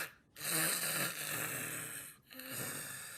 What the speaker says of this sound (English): the snoring gets louder